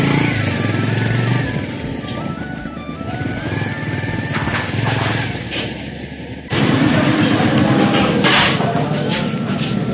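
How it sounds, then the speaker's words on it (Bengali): A motorbike engine runs steadily and loudly nearby, with the drone shifting as it rides, then ending abruptly. "তো বাইক রেখে আসি আমরা সামনে।"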